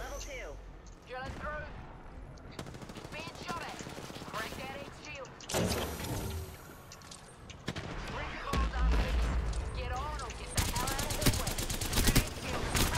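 Bursts of video game gunfire from Apex Legends crackle through much of the scene, loud and repeated in rapid volleys, with players talking over the shooting.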